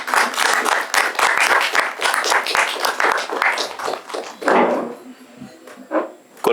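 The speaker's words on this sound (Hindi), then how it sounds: "तालियां बजते रहनी चाहिए।" An audience at an academic seminar welcomes honoured guests with loud, sustained applause that thins and fades toward the end, leaving scattered final claps.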